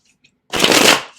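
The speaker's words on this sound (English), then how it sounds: "we're going to do 3 shuffles" A deck of tarot cards is riffled in one quick, close burst of crisp fluttering lasting about half a second after brief silence.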